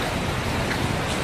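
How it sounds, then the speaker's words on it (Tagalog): Steady, dense downpour hissing loudly across the whole moment during a strong windstorm, with a constant wash of noise and no voices. "Sa kakusog sa ulan."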